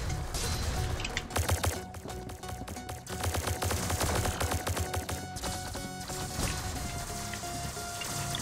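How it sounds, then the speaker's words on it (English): Rapid bursts of laser rifle fire in a first-person shooter game, dense, continuous and loud, layered with game effects and background music with no talking. "the sound of like a laser rifle all headshots is so"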